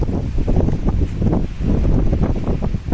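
Strong gusts of wind rush over an open farm field, a loud, steady roar of wind buffeting the microphone with surging rises and dips throughout.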